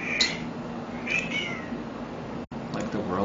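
A pet cat meows in two or three drawn-out, rising cries at close range, with a short break near the end, in a quiet room beneath faint background noise.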